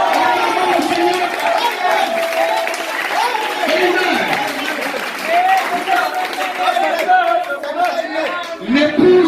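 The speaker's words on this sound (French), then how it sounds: "Acclamons le Seigneur." A church congregation cheers and acclaims the Lord during a Sunday service, a loud sustained crowd of shouting voices with some clapping blended throughout.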